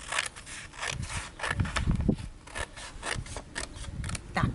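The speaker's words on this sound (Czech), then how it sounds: "Teď si papíry na té čáře ustříhneme." Scissors snipping through coloured paper along a drawn line while making a card, a steady run of close, soft crunching cuts and rasps with no voices.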